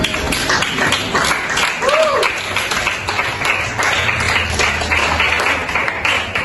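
Students in a classroom break into a burst of sustained applause, a dense crowd of hand claps that fills the room and carries on steadily for several seconds.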